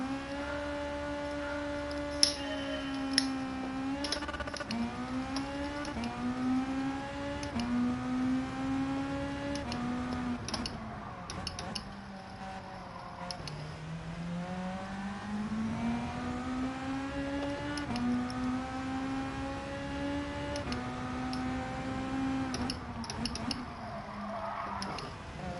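Car engine in Gran Turismo 7 during a lap, revving up and down through gear changes in a continuous whining drone with rising and falling pitch, loud and steady, with no talking.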